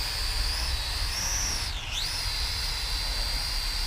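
A GTENG T905C drone lifts off and hovers, giving a steady, close, high-pitched motor whine that dips briefly in pitch partway through, with no talking.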